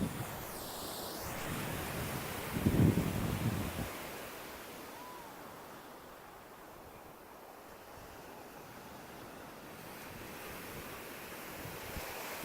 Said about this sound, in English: just showing you the beauty of the ocean